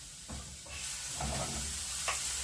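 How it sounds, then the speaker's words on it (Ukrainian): Mushrooms fry in a pan with a soft, steady sizzle and occasional stirring scrapes, fairly faint and close with no talk. "просмажити грибочки до напівготовності, тому що вони ще будуть запікатись"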